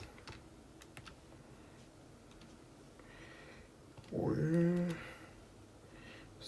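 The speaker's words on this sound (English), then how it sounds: "Let's get everything on the calculator, to be honest." Keys tapped on a calculator keypad in quick light clicks scattered through the clip, faint and close, with a brief voice murmuring partway through.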